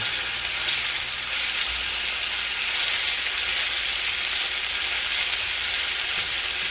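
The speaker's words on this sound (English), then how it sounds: "once I flip my sausage over that I'm using that I put in my gravy, the one time I just kind of start breaking it up in there" Breakfast sausage for gravy fries in a pan while being broken up, giving a loud, steady, dense sizzle with faint scraping underneath.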